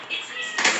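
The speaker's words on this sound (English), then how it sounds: "She's a nice kitty, looking for attention." A house cat meows for attention indoors, one short, close cry that rises and brightens near the end of the brief moment.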